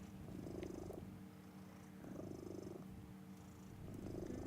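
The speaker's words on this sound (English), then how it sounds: "Can you hear them like purring?" A cat purrs up close, a soft, continuous rumbling purr that rises and falls in rhythm with its breathing, quiet and undisturbed by talk.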